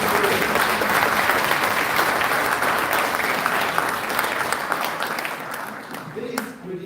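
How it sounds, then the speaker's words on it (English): Dense, steady applause from a crowd at a Kyiv Medical University graduation ceremony, loud and continuous for nearly the whole stretch before easing off slightly near the end. "So let's give a set of applause to yourself for impressive experience."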